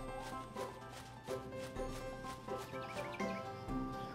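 Chickens cluck and squawk in the farming game Harvest Moon: Animal Parade, a string of short, repeated bird calls over a steady looping tune, moderately loud with no talk.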